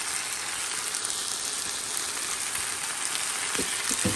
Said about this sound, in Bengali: আর চিকেনটা অনেক ভাজা ভাজা হয়ে আসছে।